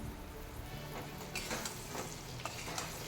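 Tomato, green chillies and potato being stir-fried in a pan for a spicy boal fish curry, a steady close sizzle with soft scraping stirs rising now and then, no talk.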